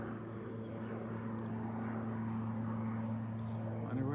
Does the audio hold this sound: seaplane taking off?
yes